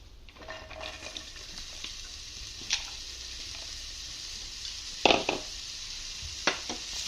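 Okra (ladies finger) frying in coconut oil keeps up a steady hiss while being stirred, with occasional louder scrapes and clatters against the pan.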